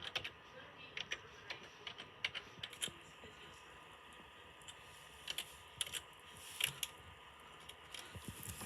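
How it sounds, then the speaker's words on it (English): Keys tapped on a computer keyboard in quiet, irregular bursts of clicks, some single and some in quick runs, close by over a faint steady room hum. "we're going to have to type home user"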